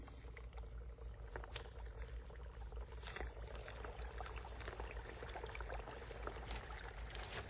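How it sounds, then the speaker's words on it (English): Dry ice drops into warm water and sets off a soft, continuous bubbling and fizzing as it sublimates into fog. The sound is faint and close, with a brief splash near the start and no talking. "So I'm going to drop some of the dry ice in."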